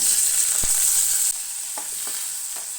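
Potatoes sautéing in a pan for sabudana khichdi, a loud steady hiss of frying oil with a few soft stirring knocks, close and continuous.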